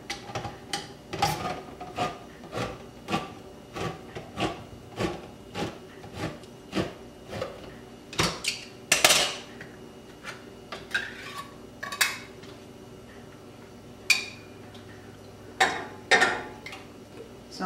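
A spatula scrapes cream of mushroom soup out of a large 26-ounce can in a home kitchen, giving a steady series of short metallic scrapes and knocks with a few sharper clinks later on.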